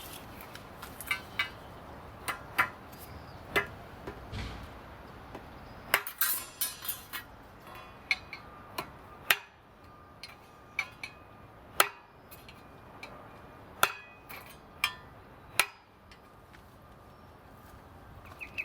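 A wooden block strikes the spine of a Benchmade Contego 810 knife as it cuts 0.8 mm galvanized sheet metal. Sharp, ringing knocks repeat roughly every second, some doubled, over a quiet background.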